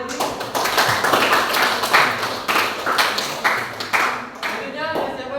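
Classroom applause for a student group, a steady stretch of clapping from a room of pupils that rises and falls over several seconds, with voices talking over it.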